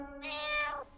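One drawn-out meow from a cat, close and clear, with nothing else around it.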